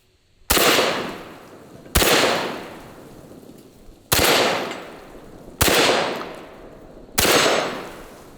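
A Benelli M4 semi-auto shotgun fires five loud, sharp blasts spaced a second or two apart outdoors, each followed by a rolling echo that fades.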